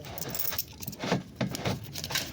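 Loose coins jingle and clink in short bursts, a few close metallic rattles spread over a couple of seconds with faint background noise.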